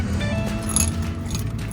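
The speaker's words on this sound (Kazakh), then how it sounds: "Кілтімізді алып алайық." Keys jangling briefly inside a shop, a light metallic clinking over a steady low background hum.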